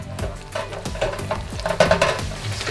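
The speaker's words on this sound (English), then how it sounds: "I'm just going to pop these into the oil" Tortilla chip pieces dropped into hot oil for homemade nachos, frying with a steady sizzle and bubbling while being stirred, with light scrapes and taps of a utensil against the pan, close and fairly loud, no talking.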